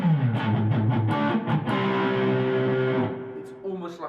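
A Fender electric guitar played through a distortion effect with the amp turned up rings out in chords and sustained notes, loud and close, with a voice talking over part of the playing.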